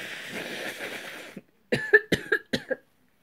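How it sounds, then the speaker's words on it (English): A person coughing: after a stretch of breathy background noise, a quick series of five or six sharp, dry coughs sounds close and fairly loud, then stops into silence. "Plus, I can't stop coughing."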